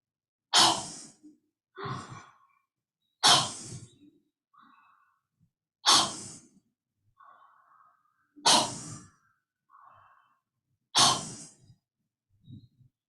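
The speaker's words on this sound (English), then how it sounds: "you have to breathe in through mouth and breathe out through the mouth" Breathwork exercise with breathing in and out through the mouth, six strong breathy exhales spaced about two and a half seconds apart with softer inhales between, close and alone without speech.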